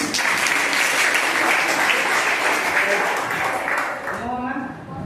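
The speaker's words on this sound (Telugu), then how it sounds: "క్లాప్స్ కొట్టండి" Students at a zilla parishad high school in Sudepalli, Kurnool district, give sustained, dense applause during a motivational speech. It stays loud and even, then fades near the end as a voice begins speaking.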